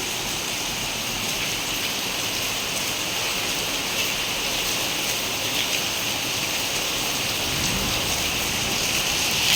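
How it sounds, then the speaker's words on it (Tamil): Heavy rain pours down in a dense, constant hiss that stays loud and unbroken throughout. "இன்னைக்கு அதென்ன மழை வேகமாக வருது"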